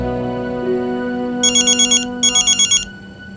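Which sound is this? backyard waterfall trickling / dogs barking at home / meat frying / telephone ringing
telephone ringing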